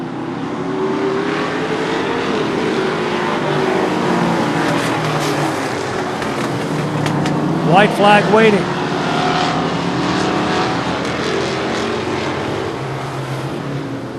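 Race cars roar around a short track in a Super Short Track Racing Series event, engines droning continuously at mid distance while a commentator talks over them, with a brief pass-by whine rising and falling near the middle.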